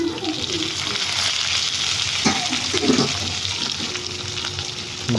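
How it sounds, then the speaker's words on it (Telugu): Large tomatoes frying in oil for a restaurant-style egg masala curry, a loud, close sizzle with stirring and scraping strokes spread through it and no talk. "బాగా ఫ్రై చేస్తున్నాం ఫ్రెండ్స్"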